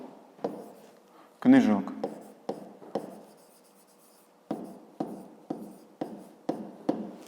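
A pen scratches on paper in short, regular strokes while a maths exercise is worked through, close and crisp, with one louder rub and brief pauses between the marks.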